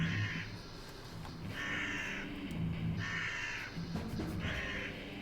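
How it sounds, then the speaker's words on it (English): Harsh crow-like caws repeat about four times at a steady pace over a heavy, dense music bed in the game Crypt Custodian. "heavy metal with bird caw."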